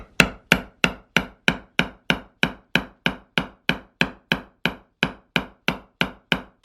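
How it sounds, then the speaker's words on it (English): A hammer strikes a grommet punch tool on fabric over wood again and again in a steady, even rhythm, each sharp hit ringing briefly, close by with no talk. "I'm just hitting the fabric with my hammer."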